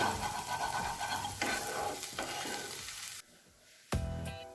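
Spices fry and get stirred in hot oil, a loud close sizzle with scraping strokes that briefly drops low before flaring back up, no speech.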